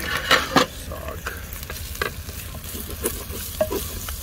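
Onions and spices frying in a pan, a steady sizzle broken by repeated scraping stirs and light clanks of the spoon against the metal, close and fairly clear.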